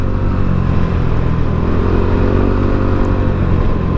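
A Yamaha Aerox V2 scooter fitted with an RS8 DC8 exhaust pipe runs steadily close by, a continuous low engine drone with a throaty exhaust rumble that holds an even level throughout.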